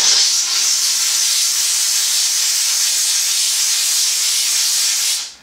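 Professional steam cleaner used for bed bug treatment, releasing a loud, steady high-pitched hiss of steam close by that runs without break before cutting off abruptly at the end.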